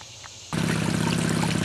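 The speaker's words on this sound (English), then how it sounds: "Okay, we've got the water hooked up to it." Water from a 1.5 horsepower, 50 gallon per minute pump abruptly starts rushing through a gold prospecting sluice box, a loud, steady, close splashing flow that continues without talk.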